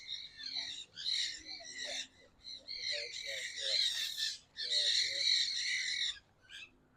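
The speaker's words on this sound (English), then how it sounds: "They're little green parrots." Small green parrots squawk in a tree in Sarasota Bay, Florida, a dense run of harsh, overlapping shrill calls in bursts with brief pauses, fairly close and fairly loud.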